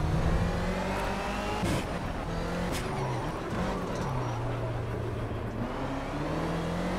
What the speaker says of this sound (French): Écoutez-moi ce bruit de moteur, c'est énorme.